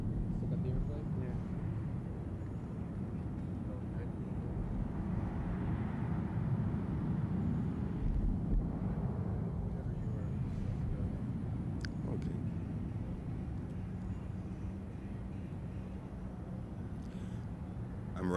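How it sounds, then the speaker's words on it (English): An airplane passes overhead in New Orleans, giving a steady, broad low rumble that swells slightly midway and fills the whole stretch with continuous background drone. "Still got the airplane?"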